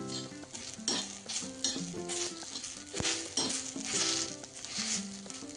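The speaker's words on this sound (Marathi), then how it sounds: "कांदे असे काळपट भाजल्याने कांद्यांमधला रस हा चालला जातो" Onions dry-roast dark in a pan, their soft sizzle broken by repeated scraping and clinking of a spatula stirring against the metal, close and steady.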